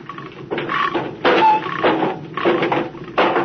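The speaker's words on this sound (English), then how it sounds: "Paulson, get a Geiger counter." A radio-drama Geiger counter effect gives bursts of rapid crackling clicks, switching on and off in several close, fairly loud spurts with short pauses between.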